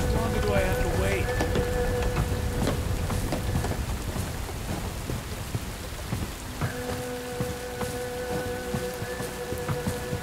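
Steady rain pours in the video game Bright Memory Infinite, a dense hiss of drops on surfaces with a low rumble of thunder beneath, while a voice and electronic tones sound over the downpour.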